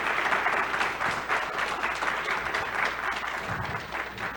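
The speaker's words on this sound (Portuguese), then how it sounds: "Queria pedir uma salva de palmas para eles" Audience applause for the parliamentarians at an energy efficiency conference panel, a full, slightly pulsing round of clapping with occasional low murmurs underneath.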